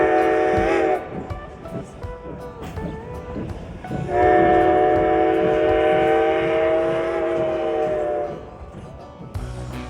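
A train rumbles steadily along the rails while its horn sounds twice, one short blast and then a long sustained one, loud and close.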